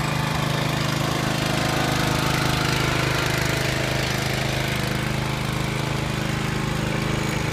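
A John Deere JX75 walk-behind lawn mower runs steadily after a cold start, its small engine giving a loud, close, continuous rattling drone.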